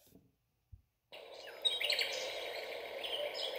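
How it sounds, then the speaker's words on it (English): Bird song alarm tone from a Housbay Glow digital alarm clock: after a brief pause, steady chirping and tweeting bird calls start and play on continuously at moderate level, close and clear, with no talk over them. "Waking up the birds, relaxing, peaceful."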